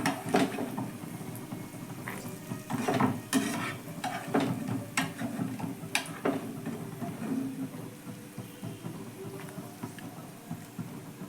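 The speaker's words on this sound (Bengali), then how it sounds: "এবার আমি বাদামটা তেলের থেকে তুলে নেব।" Peanuts frying in hot oil for a healthy tiffin snack, lifted out with a utensil: a steady low sizzle with repeated scraping and clinking strokes against the pan, close and moderately loud, with no talking.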